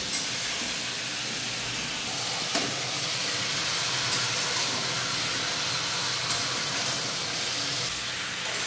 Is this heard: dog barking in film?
no